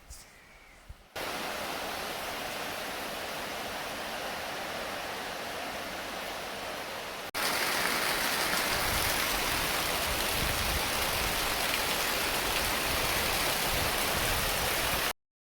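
Steady rain pours down in a continuous hiss, becoming noticeably heavier and louder partway through before stopping abruptly.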